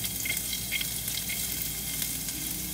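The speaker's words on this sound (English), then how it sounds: "I'm going to be stir frying this" Steady sizzling of ginger stir-frying in hot oil, a constant crackling hiss with faint scraping of stirring, close up and with no talking.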